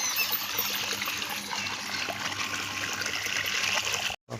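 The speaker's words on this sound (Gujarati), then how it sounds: "પાણી વાળી દીધું છે" Water trickles and splashes steadily while chili plants are being watered outdoors, a continuous broadband rush with faint background sounds and no speech.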